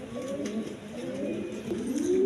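A pair of Bombay pigeons coo close by in a soft, rolling series of low throaty calls, with no talking over them.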